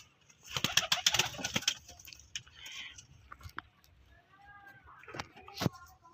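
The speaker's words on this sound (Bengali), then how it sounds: "এই হচ্ছে সব পায়রা ঠিক আছে" Pigeons in a loft make soft coos and rustling, with scattered wing flutters and scratchy movement close by, and someone speaks briefly in between.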